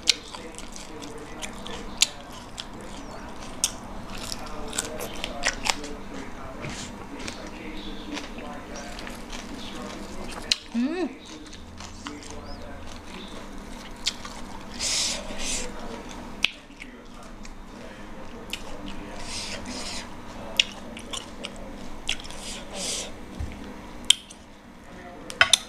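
Eating a spicy Thai oyster salad dressed with fermented fish sauce, with salted egg and century egg: close, wet chewing and squishy bites repeat through the clip, with a brief quieter pause partway and faint background sounds.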